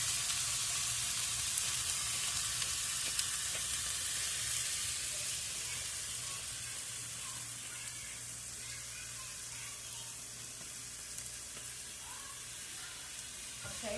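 Four smashed burger patties fry together in a pan, producing a dense, continuous sizzle and hiss that holds steady throughout, close up with no voices over it.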